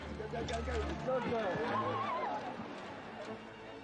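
Horses neigh and hooves clip-clop at a horse eventing competition, the whinnies rising and falling over a steady low rumble. Hoofbeats fall in an irregular patter with some background noise.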